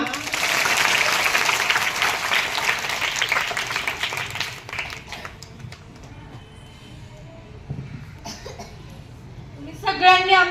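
Audience applauding after a school street play about waste types at Jijamata Vidyamandir in Barshi: loud, dense clapping for about four seconds that fades into quieter crowd murmur and scattered voices.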